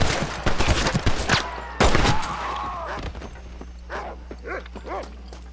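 A dog barks in the middle of a gunfight in the Western video game Red Dead Redemption, with sharp gunshots at the start, a loud burst partway through, then several clear barks toward the end over low background rumble.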